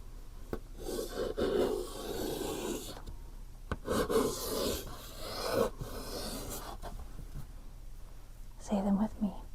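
Chalk scrapes and taps across a chalkboard as letters are written, with raspy strokes in short bursts and soft pauses, close and quiet, while a soft voice murmurs in between.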